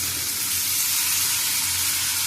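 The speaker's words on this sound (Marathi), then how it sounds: "ही भाजी आपल्या तेलावर शिजवायची आहे" Kantoli bhaji (spiny gourd) sizzles steadily in hot oil in a pan, a bright, even hiss with soft crackle that stays constant throughout, with no voices.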